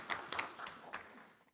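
Brief, fairly faint clapping from an audience at a school board meeting, a short burst of scattered hand claps lasting just over a second.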